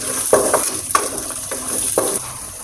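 Shredded cabbage being stirred in a hot pan, with a steady sizzle and several soft scraping strokes of a utensil at an even pace, close by and with no talking.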